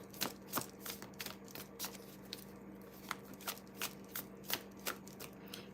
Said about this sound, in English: Just want to make sure y'all were seeing me shuffle,